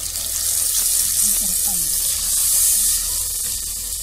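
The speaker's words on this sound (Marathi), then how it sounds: "ह्याच्यात थोडस पाणी घालायचं, थंड पाणी घालायचं नाही," Warm water poured into roasted masala for a Kolhapuri-style egg rassa curry gives a steady, fairly loud rushing splash with a faint low hum underneath, and no talking.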